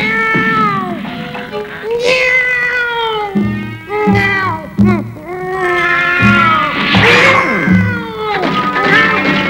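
A cat meows repeatedly and loudly in an Italian-dubbed episode of the Robotech animated series, long drawn-out wailing cries that bend in pitch, close up and rising into caterwauling.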